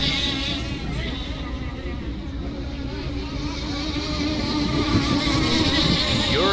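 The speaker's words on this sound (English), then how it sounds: "This is a 100-mile-per-hour, gas-powered superboat." A gas-powered RC scale unlimited hydroplane racing boat, a 100 mph replica racer, screams with a steady high-pitched buzzing engine whine throughout, loud and continuous with slight pitch shifts as it runs at speed.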